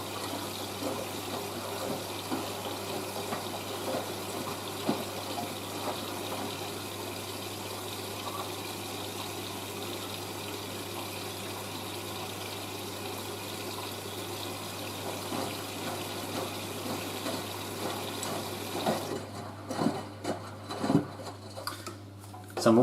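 Water flows steadily into a washing machine during the rinse as fabric conditioner is drawn in, a continuous hiss and gush with a low hum beneath, breaking into sloshing and knocks near the end.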